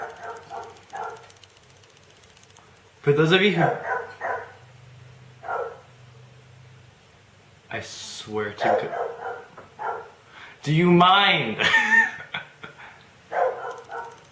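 A dog barks in a few loud bursts at close range at home, mixed with animated speech and exclamations from a person nearby.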